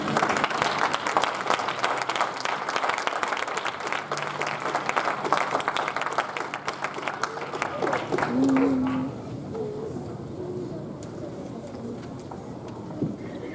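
A church congregation applauds to acclaim the Lord, a dense sustained wave of clapping that fills most of the clip before thinning out, with faint coos and a little murmuring voice near the end.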